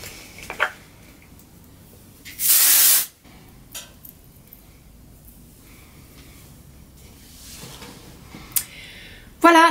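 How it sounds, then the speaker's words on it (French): Hairspray aerosol sprayed onto hair during a makeup session, one steady hissing burst lasting about half a second, close and clear over a quiet room with faint handling noises. "en mettant un tout petit peu de bombe dans les cheveux"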